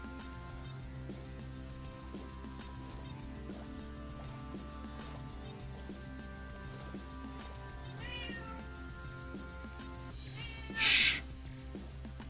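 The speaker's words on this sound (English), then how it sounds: "That's my cat saying hi" Pet cat meowing once over a quiet background of soft tones and small clicks, followed a moment later by a short, loud hushing sound from a person.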